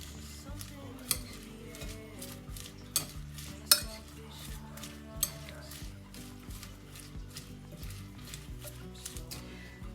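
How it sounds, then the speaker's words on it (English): Soy sauce mixture is stirred in an Instant Pot, a rhythmic series of soft scraping and tapping strokes against the pot under a low bubbling simmer. "we're just going to stir this up"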